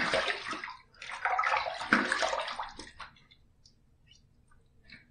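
Water splashes and swishes as a safety razor is rinsed after a first shaving pass with a pumpkin-scented soap, busy and close for about three seconds, then trailing off into faint drips and light clicks.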